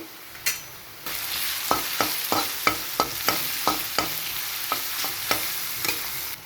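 Ginger garlic paste fries in a pan with potatoes, a steady sizzle at close range broken by a regular series of sharp scraping stirs of a spoon against the pan.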